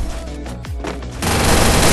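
Gunfire in the Free Fire battle royale game crackles in a rapid burst, then swells into dense, loud sustained shooting by the end.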